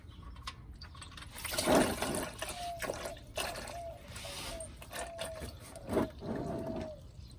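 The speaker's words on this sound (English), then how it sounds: "I'm gonna give it a moment for it to drain out." Transmission fluid draining from an Acura TL, a soft intermittent trickle and dribble of liquid with faint splashes, fairly quiet and close, under occasional low background noise.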